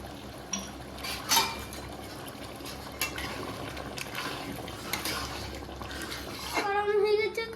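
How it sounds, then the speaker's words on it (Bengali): A little water is poured into chana masala cooking in a pan, with splashing, stirring and the clink of utensils against the pot. The kitchen is busy, and a hiss rises near the end. "হালকা করে একটু জল দিয়ে দেবো।"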